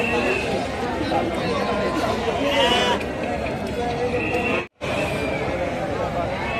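Sheep and goats bleat at an open-air livestock market in Rajarampalli, with repeated calls over a steady crowd murmur and people talking nearby.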